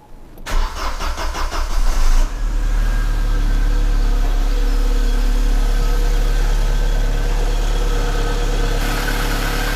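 A 1992 Audi 80, freshly repaired fuel pump, cranks for about two seconds with a rapid rhythmic churn, then catches and settles into a steady, close, loud idle that runs on alone without any talk.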